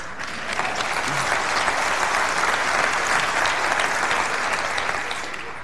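A conference crowd at Apple WWDC 1998 breaks into loud, sustained applause that swells quickly and holds steady for several seconds before slowly fading.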